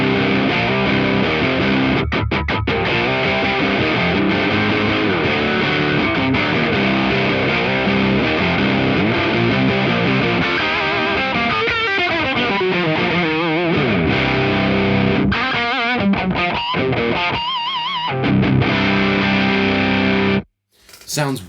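Thick, heavily overdriven electric guitar chords through a BOSS JB-2 pedal's Angry Charlie circuit, all knobs at 12 o'clock, ring out loud and sustained, with a few choppy stops and strums before cutting off near the end.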